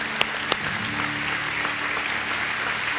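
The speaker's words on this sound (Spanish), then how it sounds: "Le damos un aplauso, por favor" Church audience applauding together, a full steady patter of many hands with a couple of sharp louder claps near the start, no talking over it.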